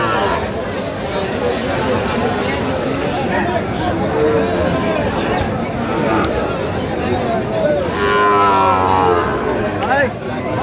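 Sahiwal bull calves low and moo at a busy cattle market in Dinajpur, their calls rising over dense crowd chatter and near, steady talk from buyers and sellers throughout.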